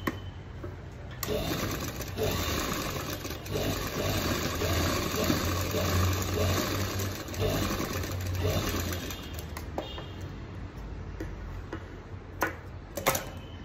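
A sewing machine stitching a border blouse back neck in a home tailoring setting, running in a steady, continuous whir for about ten seconds before it slows and stops with a few light clicks.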